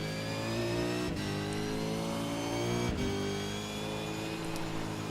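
A Holden Commodore V8 Supercar in the iRacing sim revs hard and steadily on cold tires, its engine note holding high and loud, broken by two brief shift dips.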